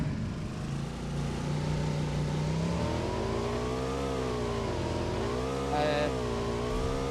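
A car engine driving in the video game PUBG on the Miramar map, heard as a steady, loud droning hum whose pitch rises and falls slightly as it accelerates, no voices.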